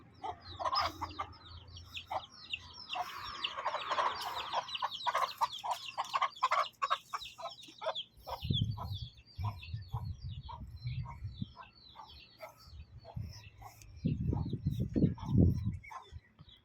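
Free-ranging chickens cluck and chirp around a tree-nesting area with hens and chicks, a busy layered flock chatter that swells midway, with scattered nearer bursts and low rustling toward the end.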